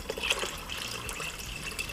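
A mix of water and Pepsi-Cola is poured over red kidney beans in a pot: a steady, close trickle and splash of liquid running for about two seconds with no voices.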